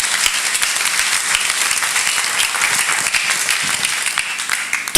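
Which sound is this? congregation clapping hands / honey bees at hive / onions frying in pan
congregation clapping hands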